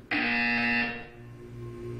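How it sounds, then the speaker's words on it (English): A harsh electronic buzzer from the Portal 2 game sounds abruptly, holds loud and steady for about a second, then cuts off, leaving a faint hum behind. "You will hear a buzzer. When you hear the buzzer, look up at the ceiling."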